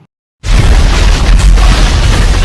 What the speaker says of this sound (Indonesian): Baku tembak pun pecah tanpa ampun. Dentuman senjata dan teriakan panik menggema di seluruh area di luar sana.